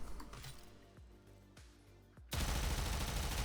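Archgun fire in Warframe: a few sharp, widely spaced mechanical shots with falling low thuds, then an abrupt switch to a loud, sustained roaring burst of rapid fire.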